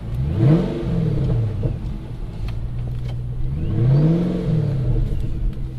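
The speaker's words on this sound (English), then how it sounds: "This Ford GT has a Hefner pulley and tune and a Hefner exhaust system, and just sounds awesome" A Ford GT sports car engine with a Hefner pulley, tune and exhaust system revs up twice, rising and falling in pitch with a deep throaty exhaust note between idling stretches.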